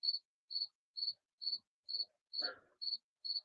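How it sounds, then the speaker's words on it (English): Crickets chirp outside by a carport in a steady, evenly spaced series of eight short pulses, clear and moderately close, with a brief soft rustle partway through. "you have a bunch of crickets"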